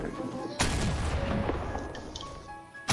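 A loud close gunshot bursts out in Fortnite, followed by a booming echoing tail with faint tonal game sounds beneath, and another sharp shot at the very end.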